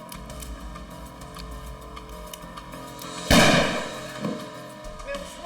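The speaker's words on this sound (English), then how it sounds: "The handgun had gone off accidentally." A single sharp handgun shot goes off indoors during a tense standoff with armed intruders at a bank robbery, one loud broadband crack followed by a brief echoing tail over low room hum.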